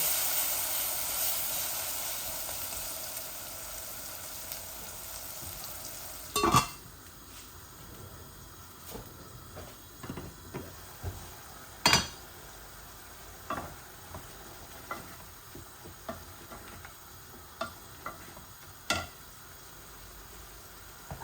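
Food fries in a pan for a Bangladeshi chicken bhuna with kochur loti and dried fish, giving a steady faint sizzle broken by occasional sharp clinks and scrapes of stirring.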